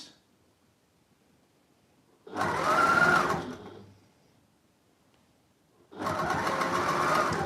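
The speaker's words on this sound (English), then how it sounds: "now I'm keeping a normal standard 1/4 inch seam all the way round." A sewing machine runs a standard quarter-inch seam on a quilt square, with two steady bursts of fast, even stitching, close and loud, separated by a short pause.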